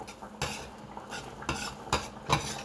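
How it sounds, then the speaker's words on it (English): Cauliflower rice stirred as it toasts in a pan over medium-low heat, with a few distinct scraping stirs and faint sizzling between them, close and clear with no talk. "you're basically just letting the cauliflower toast"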